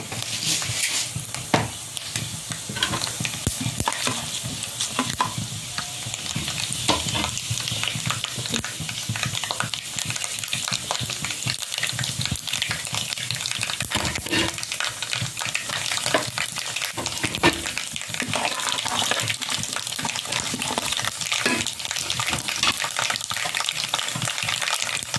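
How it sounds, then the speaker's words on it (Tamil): Mustard seeds, urad dal and chana dal fry in hot oil as a tempering for semiya rava upma. A loud, continuous sizzle and crackle runs throughout, with occasional scrapes of stirring in the pan. "கடுகு எடுத்தது பாடு உளுந்து கடலைப்பருப்பு போட்டுக்கலாம்."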